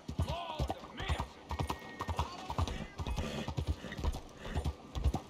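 A horse's hooves clop in a rhythmic, close-up stride in Red Dead Redemption 2, with a whinny and voices talking over the hoofbeats.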